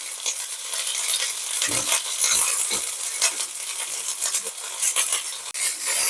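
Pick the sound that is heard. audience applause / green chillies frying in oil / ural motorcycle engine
green chillies frying in oil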